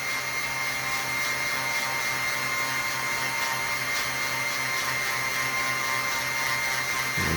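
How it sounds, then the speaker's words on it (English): A Dremel rotary tool drills slowly down through a labradorite stone cabochon, giving a steady, close, high-pitched whine that holds without a break under light pressure. "let it go down slowly through the stone. And then these take about a minute to drill"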